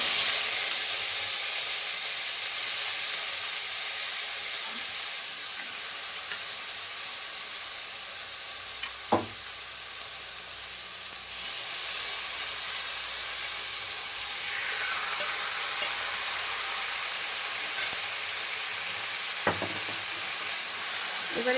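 Mutton hits hot oil with cumin seeds, whole bay leaves and a red chilli, and a loud, steady sizzle hisses continuously with a few brief clinks of stirring.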